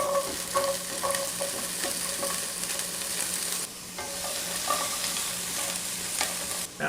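Diced carrots sizzle and fry in a hot pan for a yellow chicken curry, a steady crackling hiss broken by repeated scraping stirs, close and alone with no voices.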